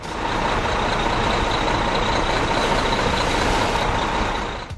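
A truck-based tunnel-building machine, which lays interlocking blocks to form an arch, gives off a loud, steady mechanical roar with a faint repeating high beep running through it and no voices.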